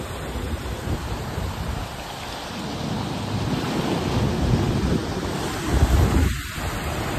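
Sea waves surging and crashing between rocks at Thatlakonda beach near Visakhapatnam, a loud, broad roaring wash that builds and rumbles continuously, heavy and close, with no voices.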